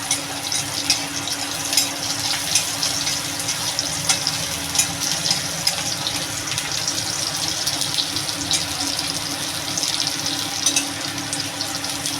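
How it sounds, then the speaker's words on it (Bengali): Garlic browns in hot oil in a pan for a home-style fish-head and greens curry, giving a constant close sizzle with frequent small pops and crackles and no voices. "দেখুন বন্ধুরা রসুনটা বেশ ভাজা ভাজা হয়ে গেছে ব্রাউন ব্রাউন হয়ে গেছে"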